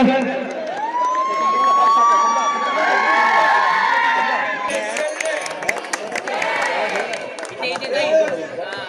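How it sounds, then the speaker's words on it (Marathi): At a garba-dandiya and costume competition prize-giving ceremony, someone speaks over a loudspeaker, then a crowd breaks into loud applause and cheering that carries on to the end. "जोरदार टाळ्या"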